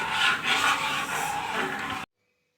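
Thickening cornflour and grape sweet mixture stirred in a pan, a continuous rubbing, scraping sound for about two seconds before cutting to silence.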